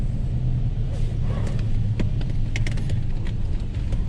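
A pickup truck engine runs with a steady low rumble and idle throughout, close and continuous, with a few faint clicks and light background noise over it.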